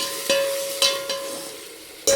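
Onion masala sautés in a pan with a low, steady sizzle, broken by a few sharp scraping strokes of a spoon against the pan as it is stirred.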